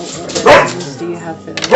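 A dog barks sharply twice behind a woman's steady speech, the barks rising loud and close over her voice.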